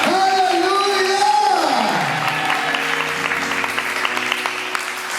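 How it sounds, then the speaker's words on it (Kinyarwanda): A church congregation applauds together during a thanksgiving service, clapping rising under a loud sustained voice at first, then continuing as a dense, steady patter of many hands for several seconds. "Amashyi menshi ku Mana"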